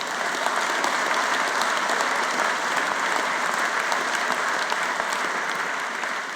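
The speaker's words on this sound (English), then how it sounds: "ladies and gentlemen. Give him a cheer." Audience at a gathering applauding and cheering a gold-medal winner from Arbroath Bowling Club, a dense, even wash of clapping held steady throughout with no talk over it.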